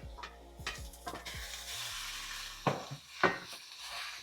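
Ground beef going into a hot pan over sautéed vegetables sizzles softly while a utensil stirs, scrapes and taps against the pan in a few distinct knocks.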